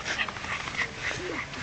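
A dog whimpers in short, high, whiny bursts, fairly close, with faint yips mixed in and no talk over it.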